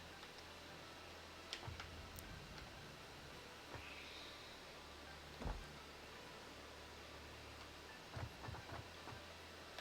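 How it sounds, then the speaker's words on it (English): A train rolls along a track in the Satisfactory factory game, a low steady rumble with scattered soft clicks and knocks, moderately quiet and alone. "Yep, there's the train. Local F, it's on the way."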